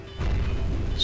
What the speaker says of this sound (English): Let's throw a grenade at them.